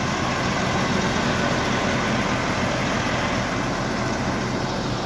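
A Case Steiger 420 tractor hitched to a 45-row planter during the 2024 corn season idles steadily, a loud dense broadband engine rumble with no change across the clip and no voices.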